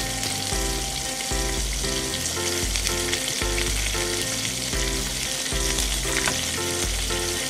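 Onion and green pepper sizzling and frying in oil inside a Teflon-coated aluminium mess tin, with a loud steady crackle and occasional stirring scrapes heard up close.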